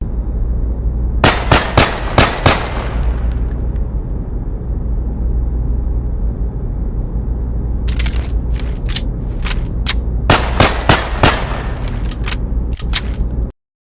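Gunfire from a weapon in ARES VR, a Roblox virtual-reality shooter: a quick cluster of loud sharp shots, a pause filled with steady background hum, then a longer run of rapid bursts and single shots, with no talking.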